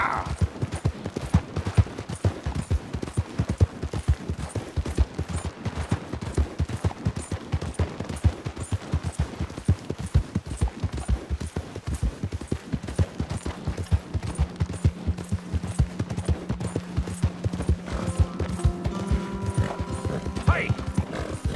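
Horse galloping in the Red Dead Redemption 2 video game, a fast steady clip-clop of hooves running throughout with scattered gunfire-like bursts and a low drone near the end, with a few spoken words over it.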